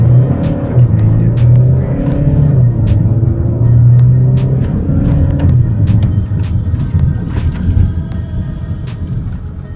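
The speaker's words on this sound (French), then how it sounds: "on va essayer de partir de 0 à 100 km/h pour essayer de voir un peu ce que ça donne" A Škoda Octavia estate accelerates hard from a standstill toward 100 km/h, heard from inside the car. The engine drone is loud and steady and rises in pitch through the gears.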